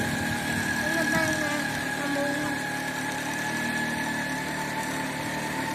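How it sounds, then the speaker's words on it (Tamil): A vehicle's engine runs steadily while riding toward a hill, giving a continuous loud droning rumble with vibration and no clear pauses. "நானும் என்னுடைய மகனும் வண்டியில் போயிட்டுருக்கோம்"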